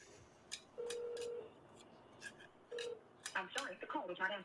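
A telephone call to a local sheriff's office rings unanswered, with two steady ring tones sounding faintly in the background, while people talk quietly around them.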